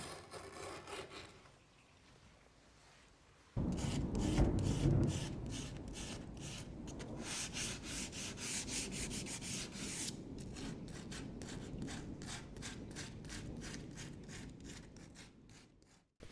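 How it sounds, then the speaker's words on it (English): Steady scraping strokes of a sanding block rubbing along the wooden edge of an antique chest of drawers, close and continuous, with a rhythmic back-and-forth texture after a quieter start. "take a sanding block on the edge to knock down the rest of it"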